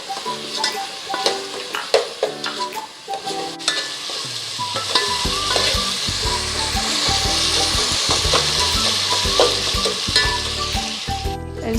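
Onion and tomatoes sizzle loudly in a frying pan for a Rajasthani dal bafla dish, with steady frying hiss and repeated scraping strokes of a spoon stirring throughout.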